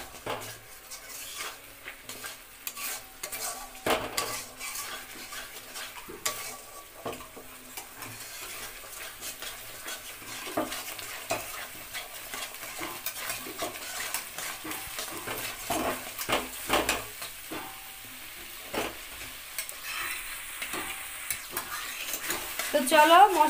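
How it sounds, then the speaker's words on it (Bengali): Spice masala for a mutton curry with potatoes is sautéed and stirred in a pan, a soft continuous sizzle broken by repeated spoon scrapes and knocks against the pot, close by, growing a little louder toward the end. "তো চলো মশলাটা কষিয়ে"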